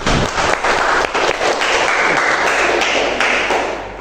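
Classroom of students applauding together for a few seconds, dense steady clapping that fades slightly at the end, with no talk over it.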